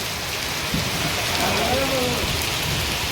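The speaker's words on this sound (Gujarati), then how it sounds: "અત્યારે વરસાદ પડે છે ફૂલ." Heavy rain pouring down during a storm in a village, a dense, steady hiss of close downpour that holds at the same loudness throughout.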